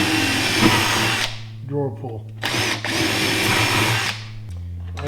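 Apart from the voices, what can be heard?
power drill drilling a hole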